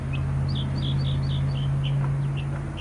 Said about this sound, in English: This is the state bird here in Texas, called the mockingbird. It's a beautiful singer,